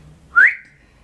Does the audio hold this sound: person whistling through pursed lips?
yes